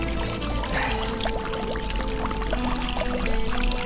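Fresh Swiss spring water pours steadily from a mountain fountain, a continuous bright splashing and gurgling that stays loud and close throughout, with no talking.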